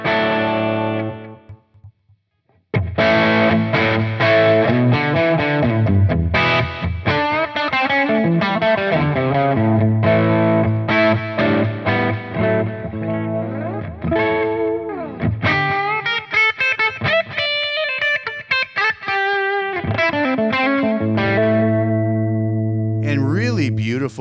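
Electric guitar played through Neural Amp Modeler amp captures, distorted chords and single-note lines ringing loudly after a short pause, with tones changing as different captures are tried.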